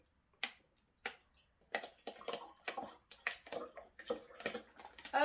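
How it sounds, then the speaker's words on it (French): Water poured into a glass holding a few Orbeez beads: a string of faint splashing, trickling bursts in an irregular rhythm, close and quiet, with no talking. "dans celui-ci, on va mettre de l'eau."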